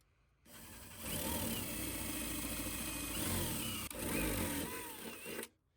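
Power drill boring a bolt hole with a 5/16 bit, stepping up from a smaller pilot hole during a camper interior build; a steady, loud whirring grind runs for about five seconds, briefly dipping once midway, with no talk.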